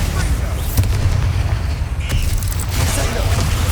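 Bombarda exploding spell cast in Hogwarts Legacy, heard as loud, dense game combat noise with booming low rumble and a few sharp bursts throughout, under a busy spell-battle mix.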